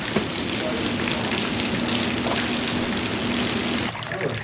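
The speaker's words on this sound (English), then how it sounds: "Oh, it is hail." Hail falling outside makes a dense, steady patter on surfaces close by, continuous and fairly loud, with a faint hum underneath.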